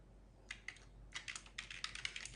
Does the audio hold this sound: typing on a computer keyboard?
yes